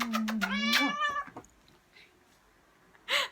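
A pet cat gives a loud, close, wavering meow at the start, then a short second cry near the end, with quiet pauses between and no talking.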